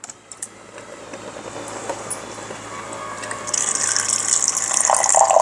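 Cold water streams from a refrigerator's built-in water dispenser, a steady hissing pour that builds louder over several seconds, close by with no talking.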